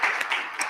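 An audience at an annual meeting claps their hands in a brief, dense burst of applause, moderately loud and without speech.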